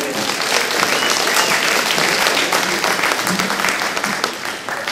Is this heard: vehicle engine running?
no